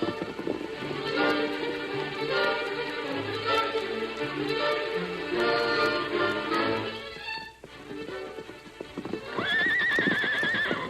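A horse named Silver clip-clops in a steady rhythm of hooves, then gives a loud, shrill neigh near the end, with a continuous music score running beneath.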